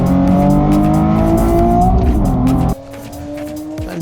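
Drag race cars launch hard down the strip at a power festival, engines roaring loudly with tire squeal before the sound drops abruptly to a quieter, lingering engine drone as the cars pull away.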